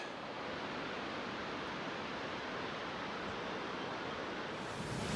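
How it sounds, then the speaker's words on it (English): Steady rushing water of a river in the mountains along the Pacific Crest Trail roars as a dense, unbroken wash of noise, like a fast river close by, with no voices. "So I made it to the SoBo River. Sorry for the noise."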